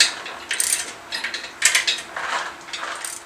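A wrench snugs up nuts on a core assembly, giving close, quick metallic ratcheting clicks in several short bursts with brief pauses between, and no voices.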